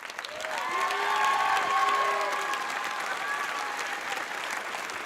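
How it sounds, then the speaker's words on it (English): Audience applause at a 2018 gala fills the room, steady clapping from a large crowd rising quickly and holding at an even level for several seconds, with faint cheering mixed in. "So please give them a round of applause."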